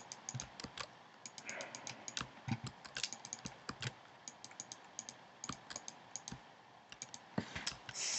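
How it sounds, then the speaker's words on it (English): Mouse and keyboard clicks from playing Minecraft come as a quiet, irregular stream of sharp, close taps, sometimes in quick bursts, with no talking. "So the only sound you can hear is me clicking right now"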